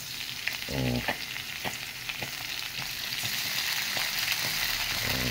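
Corned beef frying with potatoes in a pan gives a steady sizzle, broken by short scraping stirs of a utensil against the pan, close up and with no talking.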